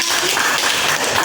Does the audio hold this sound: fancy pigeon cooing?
no